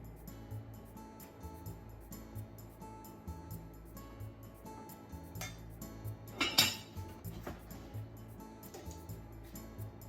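Cooked rice is served into a bowl for gyudon, with soft clinks of a utensil against dishes and a bowl over steady background music, the clatter brightest in one brief burst midway.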